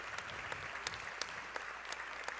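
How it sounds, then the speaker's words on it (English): Audience applause for athletes after a volleyball all-star match in Kansas: continuous crowd clapping with a few louder individual claps standing out, heard steadily and at moderate distance. "Let's give all these athletes one more round of applause for a well-fought match."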